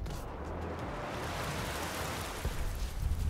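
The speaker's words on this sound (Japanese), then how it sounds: "雨もできるんだね。 ちょっと雨やってみよう。" Rain in the picar3 driving game, falling on a Ferrari on city streets, makes a soft, steady hiss that stays faint, with a slight low rumble rising near the end.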